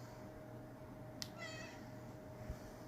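A pet cat gives a single short meow, faint and fairly close, against a quiet, steady background hum.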